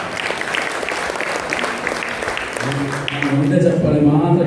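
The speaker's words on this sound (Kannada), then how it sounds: "ಒಂದು ಚಪ್ಪಾಳೆ ಕೊಡ್ತೇವೆ" Audience at a formal gathering bursts into sustained applause, a dense wash of clapping that swells and continues to the end, with some speech at the start.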